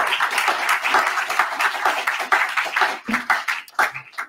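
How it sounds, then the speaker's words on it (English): An audience at a report launch event claps in a dense, sustained burst of applause that thins out toward the end. "give them a big round of applause"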